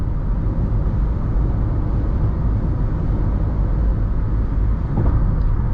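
Steady low road rumble and wind noise inside a 2012 Jeep Liberty cruising at 70 mph on a highway, a constant loud drone with no talking.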